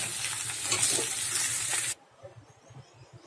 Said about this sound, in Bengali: হালকা করে ভেজে নিয়েছি, এবার তুলে নেবো ক্যাঁকড়াগুলো।